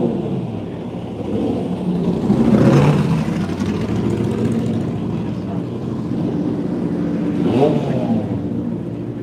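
A Spider sports car rolls into the pits at Phillip Island during a historic motorsport festival, its engine rumbling and swelling near the middle, then easing off, with steady crowd and pit-lane noise underneath.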